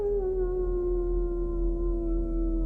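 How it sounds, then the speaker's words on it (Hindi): A dog howls outside a house in a horror-story scene, one long, steady, mournful wail that holds its pitch and sinks slightly over nearly three seconds, loud and alone. "फिर अचानक एक कुत्ता घर के बाहर आकर रोने लगता है।"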